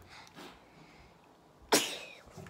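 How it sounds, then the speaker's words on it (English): A single sharp sneeze bursts out suddenly after a quiet stretch with faint background noise. "Sneezing and farting."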